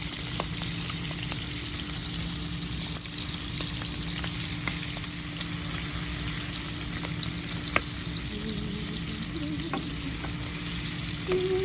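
Shrimp with onion and curry powder frying in a pan, a steady close sizzle with occasional stirring scrapes and soft clicks throughout.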